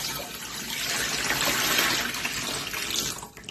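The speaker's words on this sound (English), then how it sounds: "my Vitamix holds 8 cups of water, so I'm going to add the 8 cups of water" Tap water gushing steadily into a Vitamix blender jar, a loud continuous splashing pour that tapers off right at the end.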